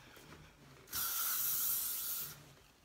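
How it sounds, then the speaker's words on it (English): L'Oreal Elnet Satin hairspray sprays onto hair in one steady hiss lasting about a second and a half, close and fairly loud, with quiet handling sounds around it. "So the one that I use is L'Oreal Elnet Satin, and then I just spritz some along the bottom."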